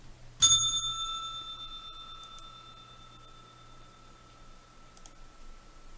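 A single bright bell strike marks the market open for S&P 500 Emini futures trading, ringing clearly then decaying slowly over several seconds with sustained overtones, alone without voices.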